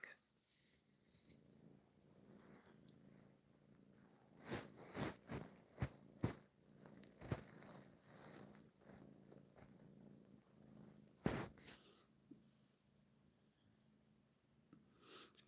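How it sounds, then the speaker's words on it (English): A sleeping cat purrs softly and close by, a low steady rumble broken by several sharp louder taps and knocks in the middle stretch. "He's sleeping and purring."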